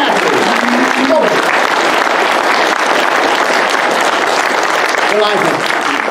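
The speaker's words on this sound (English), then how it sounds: "I thank you for the applause." A crowd applauds loudly and steadily after a Theodore Roosevelt living history presentation, the dense clapping sustained throughout with a few voices calling out over it.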